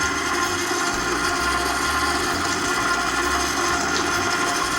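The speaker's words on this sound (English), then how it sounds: "Now on the low level, on level 2, we'll mix to combine." A stand mixer runs on low speed (level 2) combining basic dough ingredients for onion fried bakes, giving a steady, continuous mechanical whir with scraping rub throughout, close and without talk.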